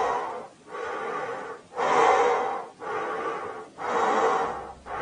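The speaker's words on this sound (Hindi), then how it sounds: "कुछ ही दूर चलने पर वो थक गया और हांफने लगा।" Heavy, loud panting from an exhausted demon as a story sound effect, about four long rasping breaths in a slow, steady rhythm, heard alone and close.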